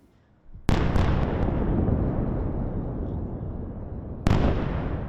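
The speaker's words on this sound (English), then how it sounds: "Loud explosions rocked Beirut's southern suburbs" Airstrikes hit Beirut's southern suburbs: two heavy, distant blasts land a few seconds apart, each followed by a long, rumbling roar that slowly fades.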